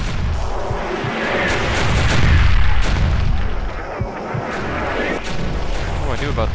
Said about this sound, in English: There's mortars? Or is that an actual just like airstrike?